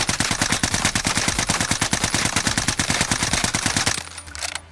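Automatic gunfire from a C58 rifle in a PS5 shooter game, a long rapid burst of loud evenly spaced shots that stops abruptly near the end.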